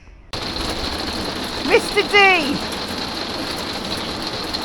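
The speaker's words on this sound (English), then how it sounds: "We're in the middle of a hail thunderstorm." Hail from a thunderstorm drumming on a camper van at a campsite in Italy, a dense steady rattle that starts abruptly and continues throughout, with a brief voice calling out partway through.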